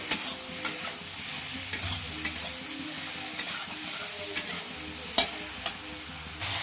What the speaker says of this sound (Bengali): এবার ভালো করে এবার ভেজে নেব।